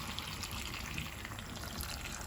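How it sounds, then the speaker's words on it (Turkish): A little water splashes into a hot pan of chicken for creamy mushroom chicken, a brief, close, steady watery hiss and bubbling with no pause. "Bir de çok az su ekleyeceğim."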